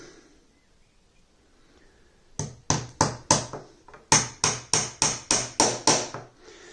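Pins are hammered into a wooden beehive frame in two quick runs of sharp, close taps, about five and then seven strikes, following a quiet pause. No one speaks.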